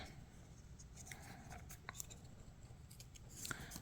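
Paper for a card is trimmed with a few quick, soft snips and scrapes, faint and close in a quiet room, with small taps scattered between them.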